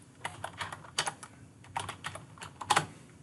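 Keys clatter on a computer keyboard in quick irregular bursts of close, crisp clicks, with short gaps between runs of typing and no voices.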